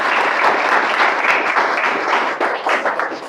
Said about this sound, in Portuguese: As palmas aí para a professora Aite, né?